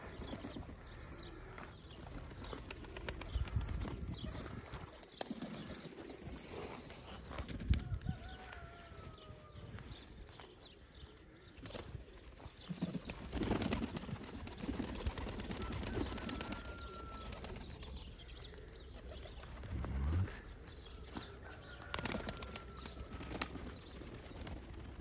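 Young pigeons move about near their dovecote, with soft coos, occasional wing flaps and light footsteps scattered over steady outdoor background noise for the whole stretch.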